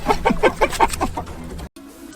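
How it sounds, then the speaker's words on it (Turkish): Panicked chickens in a coop being cleaned let out a quick run of loud, close squawks and clucks for about a second, then the commotion fades and cuts off. "Tavuklar paniğe kapıldı komutan"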